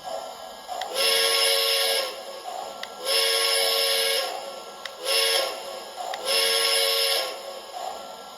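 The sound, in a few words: model train whistle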